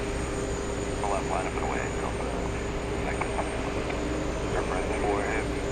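Virgin Atlantic airliner coming in to land at JFK airport, a steady broadband jet roar held at a constant level throughout, with faint voices murmuring underneath.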